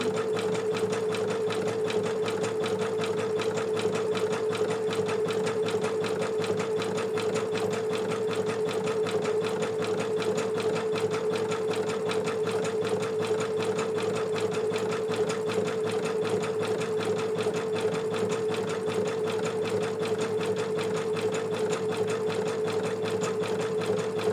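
Embroidery machine stitching an in-the-hoop bookmark, a steady, continuous mechanical hum with a fast, even needle rhythm that stays close and loud throughout, with no talking.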